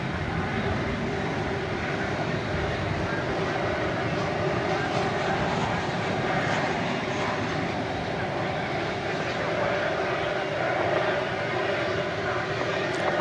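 At night at DFW Airport, a passenger airplane arriving from Fresno taxis with a steady broadband engine roar and a hum beneath it, holding a constant level at moderate distance while a voice talks at times.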